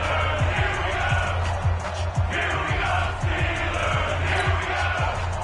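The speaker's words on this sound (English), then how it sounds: "The crowd getting into it as we come up on a big 3rd down." Dense stadium crowd roar from a football video game on PS4, a steady loud wash of cheering with rhythmic thumping underneath, continuous throughout with no clear pauses.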